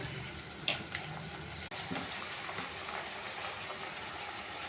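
Tomatoes added to softened onion frying in a pan, a quiet steady sizzle and hiss with a single light knock near the start.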